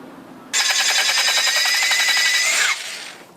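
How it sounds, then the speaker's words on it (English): An electric drill bores steadily through a broken exhaust manifold stud on a Camaro 3.8 V6, a loud, continuous high whine lasting about two seconds before it cuts off and winds down. "We're just going to have to drill it the rest of the way through."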